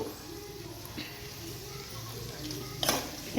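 Vegetables and cabbage fry in a pan as part of an egg rice dish, a soft steady sizzle with occasional stirring scrapes and a sharper clink near the end.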